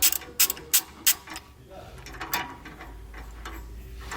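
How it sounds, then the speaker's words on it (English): A 13mm socket wrench ratchets on U-bolt hardware during installation of a steering stabilizer on a 2014 Thor motorhome, giving a few quick close clicking bursts and then quieter fiddling. "We're going to be using a 13mm socket for the hardware on the backside."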